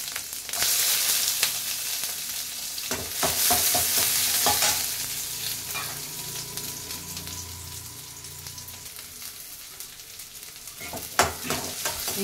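Onion, green chilli and curry leaves frying in oil in a kadai with mustard seeds and urad dal, giving a loud steady sizzle with scraping stirs and occasional clatters, easing off toward the end.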